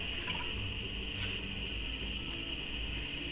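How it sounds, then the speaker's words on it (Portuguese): Water pours steadily into a small enamel pan, about 150 ml, with a continuous rushing fill at close range and no talking. "Vamos pegar 150 ml de água e colocar nessa panelinha aqui"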